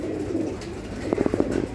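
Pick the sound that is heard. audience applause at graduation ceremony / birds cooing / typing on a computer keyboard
birds cooing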